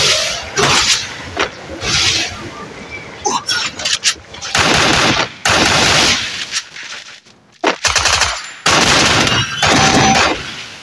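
Gunfire in the Free Fire video game, shotgun blasts and rapid shots in loud repeated bursts up close, with a player talking over the fighting.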